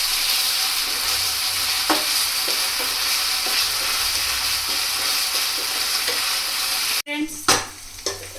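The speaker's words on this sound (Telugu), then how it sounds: "ఈ అల్లం వెల్లుల్లి పేస్ట్ కూడా పచ్చి వాసన పోయే వరకు ఫ్రై చేసుకోవాలి." Ginger garlic paste sizzles steadily in a hot pan, a continuous bright frying hiss with occasional soft stirring knocks, and near the end metal clinks from a spoon or lid as the sizzle drops away.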